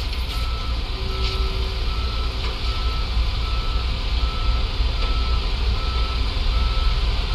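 Tow truck reversing beeps in the Police Simulator: Patrol Officers game, a steady repeating beep over a constant low engine rumble throughout, fairly loud and with no talk.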